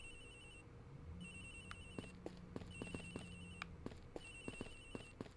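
A video-game cell phone ringtone from Ace Attorney Investigations plays in repeated bursts of a high electronic warble. Sharp clicks and a soft background melody run beneath it, and no one speaks.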